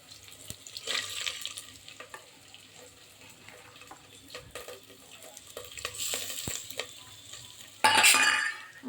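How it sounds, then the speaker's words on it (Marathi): Dry rice is tipped into a cooking pot in a home kitchen and stirred, giving a steady gritty rustle and scraping with a brief louder pouring burst near the end. No one speaks. "आता त्यामध्ये आपण हे तांदूळ घालणार आहोत."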